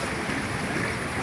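Sea waves rolling onto a beach strewn with driftwood after a typhoon, a loud continuous wash and roar close by with no voices.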